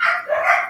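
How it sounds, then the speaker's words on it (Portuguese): Dogs give two quick, close barks in a rapid pair that run almost together, with no speech over them. "Eles estão latindo muito agora aqui."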